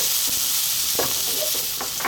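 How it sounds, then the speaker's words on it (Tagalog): Garlic and ginger sauté in hot oil in a pan for a Filipino chicken vegetable stir fry, giving a steady close sizzle broken by a few scraping stirs, with no talk. "At ang garlic. So magsusutin na tayo."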